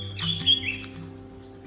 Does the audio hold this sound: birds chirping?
yes